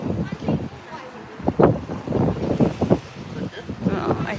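Wind buffets the microphone beside a seal pool on a breezy day, broadband gusts rising and falling throughout under a speaking voice.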